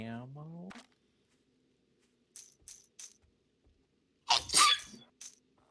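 A single sharp sneeze bursts out near the end, loud and close, after a few short soft noises; a voice speaks briefly at the start.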